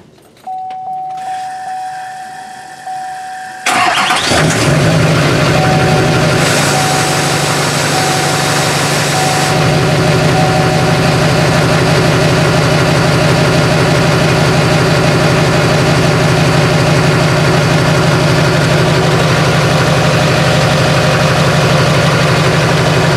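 A Duramax diesel engine, freshly fitted with an Airdog 2 4G lift pump, cranks and fires after a few quiet seconds, then settles into a steady, loud, rumbling idle that runs on unbroken.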